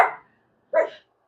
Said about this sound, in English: My dog is barking and joining in the conversation.